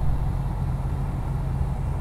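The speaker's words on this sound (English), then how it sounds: "the next thing you're going to want to do is actually key the car over" A parked car idling with its vents blowing on recirculate, a steady low engine hum beneath an even airy rush, constant and close with no talk.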